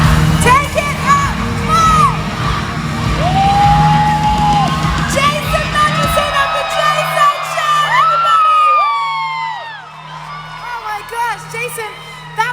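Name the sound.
concert audience screaming and yelling at the big reveal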